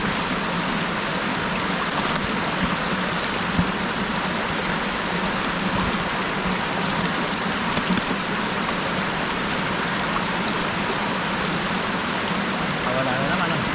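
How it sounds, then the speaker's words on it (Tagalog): Rushing mountain stream water, swollen and rising, roaring as a loud, steady, unbroken wash that fills the whole stretch with no let-up. "Kasi medyo nalakas na po yung tubig."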